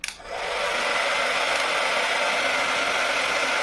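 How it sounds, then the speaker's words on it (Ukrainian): A hair dryer drawing about 1800 W from a hybrid inverter switches on with a brief click and settles into a steady, loud, continuous whooshing whir that runs unchanged to the end. "Давайте запускаємо спочатку фен."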